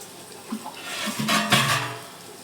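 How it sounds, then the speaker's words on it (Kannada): Half a glass of water is poured into a cooking pan, a short splashing pour of about half a second after a couple of faint clinks, fairly quiet and with no talking. "ಈಗ ಅರ್ಧ ಲೋಟದಷ್ಟು ನೀರು ಹಾಕೋತಾ ಇದ್ದೀನಿ"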